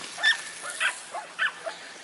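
Dogs barking and yipping at a campground by the Chesapeake Bay, several short barks scattered at a moderate distance with faint background activity.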